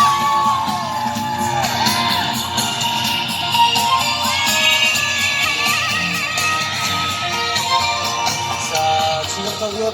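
Youth campers at a summer-camp bonfire in Buyeo yell and whoop together as the campfire is lit, a loud, sustained crowd roar with overlapping shouts throughout.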